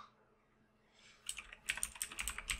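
Fingers typing on a computer keyboard with reactive green backlighting, a quick run of close, crisp key clicks that begins after a quiet second and continues in uneven bursts.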